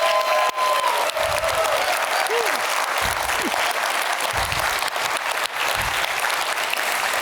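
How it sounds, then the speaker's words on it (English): A friendly audience at a fireside chat gives a steady round of applause, dense and continuous from start to finish with faint voices beneath. "You've given Peter a round of applause"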